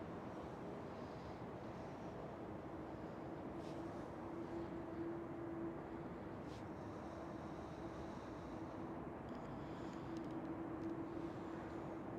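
A KLM Boeing 787 airliner at Schiphol Airport gives a steady, broad jet roar at a distance, holding constant with a faint tonal whine drifting through, mixed with wind across the microphone.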